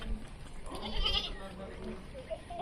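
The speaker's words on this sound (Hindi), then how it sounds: "ये बकरी जा रही है" Goats and their kids on a farm bleat and shuffle about at moderate distance, with a few scattered calls over a busy background and someone talking throughout.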